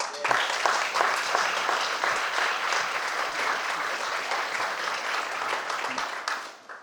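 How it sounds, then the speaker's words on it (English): Warm applause from an event audience at a museum panel discussion, greeting David Myers and the panelists; steady dense clapping throughout that tapers off at the end, with no talking. "please give a very warm applause to David Myers and our panelists"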